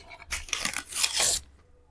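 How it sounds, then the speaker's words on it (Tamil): Plastic cover being torn off a new wooden vegetable cutting board: a close, crackling rip of about a second in two bursts, then quiet. "இந்த பிளாஸ்டிக் கவரை பிரிச்சுட்டேன்"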